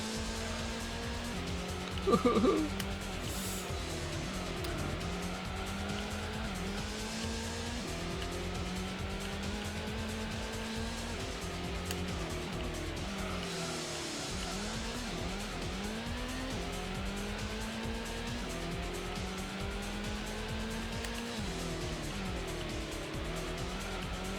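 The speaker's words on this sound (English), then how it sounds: "Nice drift. Power slide there." Racing car in the Gran Turismo endurance event SS Route 11 All Night 2 power-slides through a drift, its engine droning steadily as tyres squeal continuously, with a brief louder screech early on and a voice talking over it.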